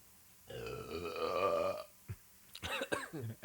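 A single long, loud belch rolls out close up, followed by a few short throaty grunts and gulps.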